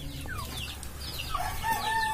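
A chicken on a rural property clucks and calls in a few short bursts over steady background noise, with other birds faint around it.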